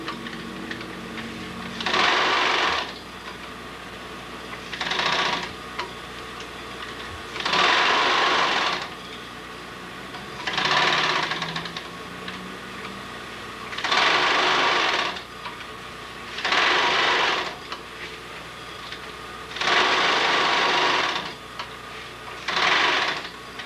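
A sewing machine top stitching fabric runs in eight separate bursts of a few seconds each, with short pauses between them. The whirring is close and steady, and no one talks.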